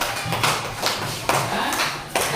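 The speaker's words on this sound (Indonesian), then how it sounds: "duduk, tepuk tangan dulu." A classroom group claps hands in a few quick, uneven bursts, fairly close and moderately loud.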